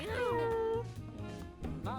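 Cats meow in the video game Mewgenics: a drawn-out, rising and falling meow opens, then a second shorter mew follows near the end, over a low background voice.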